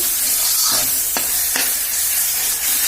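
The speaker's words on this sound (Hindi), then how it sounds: "अब सबका हम तब तक भूनेंगे जब तक खुशबू नहीं आवे।" A spoon stirs frying masala for jackfruit kofta in a pan, a steady close sizzle with a few sharp scrapes of the utensil against the pan, no voices.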